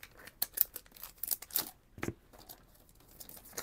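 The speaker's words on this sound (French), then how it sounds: "je pense que je vais les découper" Scissors snip through paper pictures for a scrapbook mini album, a series of short, crisp cuts and light rustles in an irregular rhythm, close and fairly quiet.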